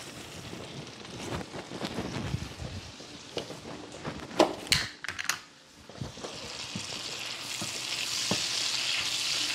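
A lemon juice and garlic mixture for baked crappie is stirred with scattered light clicks and scrapes of a utensil, followed by a faint, steady hiss near the end.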